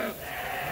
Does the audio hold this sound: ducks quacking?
no